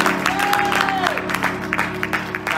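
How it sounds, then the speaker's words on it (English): A congregation claps hands together during a COGIC church service, a dense, steady patter of many hands over sustained organ-like music and some voices, continuing throughout at moderate loudness. "Everybody clap your hands here."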